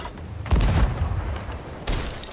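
Ship cannon fire in the Sea of Thieves game: two deep booming shots about a second and a half apart, the first heavier and longer, both without talk.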